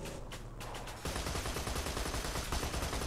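Dense, loud gunfire from Borderlands 2 aimed at an ant, rapid automatic shots in a continuous burst that grows heavier after the first second.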